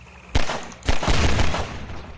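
Gunshots are fired at barrels in the video game Half-Life 2: one sharp report, then another followed by a burst of rapid booming shots that ring out and fade.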